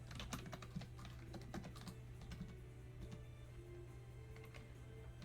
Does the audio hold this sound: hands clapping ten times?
no